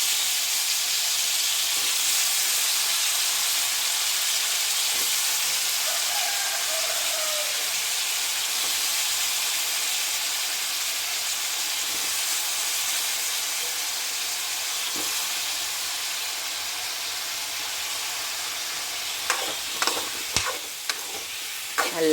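Chopped mixed vegetables fry in a pan with a long, even hiss of sizzling oil. Occasional faint stirring knocks are heard, then a quick cluster of louder spatula scrapes near the end.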